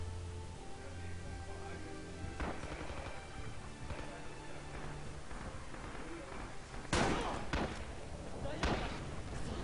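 Gunfire in the World War II shooter Rising Storm: a few sharp, heavy shots and thuds, the loudest near the end, over a low ambient background of the game.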